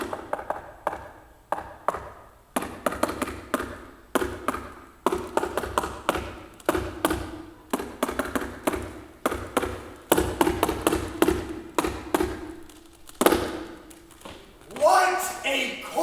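Repeated knocking on a door during a stage play of The Comedy of Errors, clusters of hollow taps and thuds rising and falling amid actors speaking over them.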